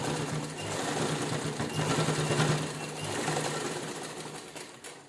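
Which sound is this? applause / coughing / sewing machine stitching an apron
sewing machine stitching an apron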